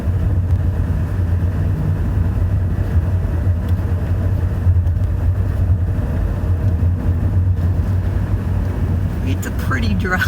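Car cruising along curvy Highway 2 south in Oklahoma, a constant low engine and road drone inside the cabin, with someone talking over it.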